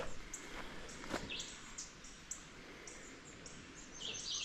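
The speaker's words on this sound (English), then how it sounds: "Red-eye vireo, northern cardinal, of course." A red-eyed vireo and a northern cardinal sing in daytime woods, their short chirps and phrases repeating faintly and at a distance over a soft, steady background hiss.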